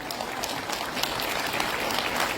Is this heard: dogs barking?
no